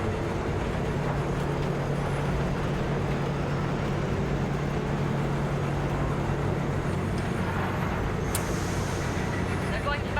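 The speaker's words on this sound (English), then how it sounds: "Alright, the nuclear train's a-going." A nuclear train rolling along in the game Cyberpunk 2077, a continuous low rumble and hum of rail motion that holds steady and loud throughout.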